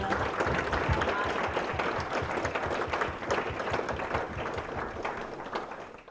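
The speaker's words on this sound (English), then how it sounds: "let's give a round of applause for our amazing panelists" An audience applauds panelists at the close of a wellness panel discussion, a dense burst of many hands clapping that stays strong and then gradually fades toward the end.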